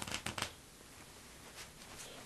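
A deck of playing cards riffle shuffled by hand, three quick crisp bursts of riffling close up, followed by quiet handling.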